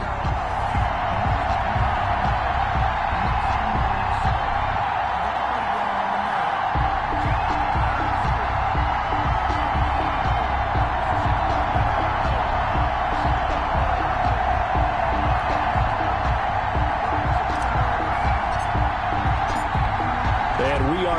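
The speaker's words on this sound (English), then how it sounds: "This crowd is ready as their guys get set to match up between the Las Vegas Raiders and the Buffalo Bills." Stadium crowd noise from a Madden football video game ahead of a Las Vegas Raiders versus Buffalo Bills matchup, a constant roar of cheering fans beneath a commentator talking throughout.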